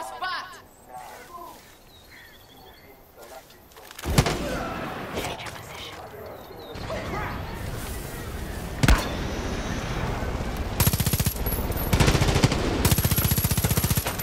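Heavy gunfire in a Far Cry 5 battle near a bunker: dense bursts of automatic fire and sharp single shots rattle on and off, building louder and more continuous toward the end, with occasional thuds.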